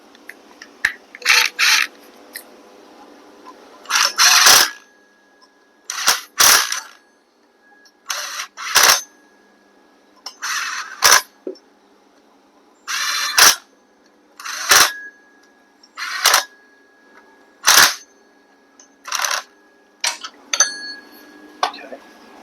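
Metallic clicks and ratcheting bursts as flywheel bolts are tightened on a 1968 Moto Guzzi V7 700, close and fairly loud, coming in about a dozen short separate bouts with quiet gaps between them.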